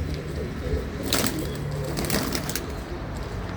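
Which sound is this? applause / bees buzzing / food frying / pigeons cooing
pigeons cooing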